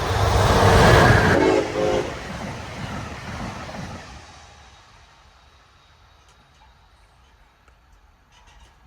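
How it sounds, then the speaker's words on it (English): An Amtrak train led by ACS-64 electric locomotive 656, bound for Boston, passes at Canton, Massachusetts, loud and close at first with a roaring rush and a horn blast, then fading steadily into the distance. "we see ACS 64, number 656, leading train 66 on its way to Boston"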